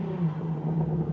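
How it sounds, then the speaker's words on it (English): A loud Nissan car engine passes nearby, a steady low rumble with a droning tone that holds at constant strength through the brief moment, with no voices. "Wow, that's a very loud Nissan."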